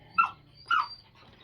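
Two sharp, yelping barks from a dog in a home with a cat and egg-laying hens, spaced about half a second apart, fairly close and loud, followed by a faint trailing whine.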